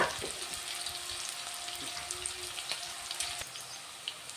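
Onions fry in a pan with a steady, soft sizzle and faint crackles, heard close and alone under a low, even hiss.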